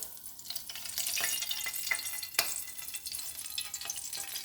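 Cooking oil goes into a saucepan to start a Cajun sauce for fried fish, producing a close, crackling sizzle with sharp spits and pops.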